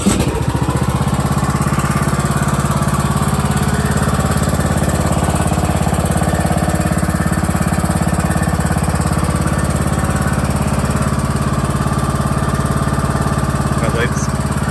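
A John Deere E100 lawn tractor engine runs steadily after starting, a loud, close, throbbing mechanical drone that holds an even rhythm for the whole stretch.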